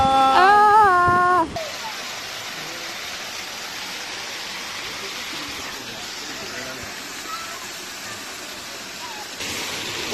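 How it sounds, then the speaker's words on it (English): A waterfall at the Fairy Pools in Scotland gives a steady broadband rush throughout, with a voice exclaiming briefly at the start. "I told you there'd be waterfalls"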